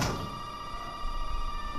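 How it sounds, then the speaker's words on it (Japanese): A telephone rings inside the Biohazard 7 horror game, one sustained electronic bell tone sounding steadily and fairly close, with low rumbling game ambience underneath. "電話じゃん、電話"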